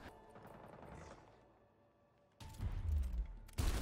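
Gunfire in the tactics video game Gears Tactics: quiet in-game ambience gives way to two loud, sharp weapon bursts, the second cutting in abruptly near the end.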